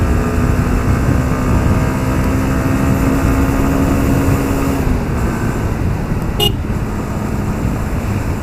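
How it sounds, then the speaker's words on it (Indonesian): A 2019 Honda CB150R V3 motorcycle sounds a short, loud horn blast over its own running engine and road noise during a test ride. The honk comes once, briefly, near the end. "Tuh, suara klaksonnya keras ya"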